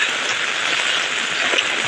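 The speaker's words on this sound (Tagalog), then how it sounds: "lumakas ang ulan, buti nakapayong tayo." Heavy typhoon rain pours steadily beside a river in a dense, hissing wash, close and constant throughout.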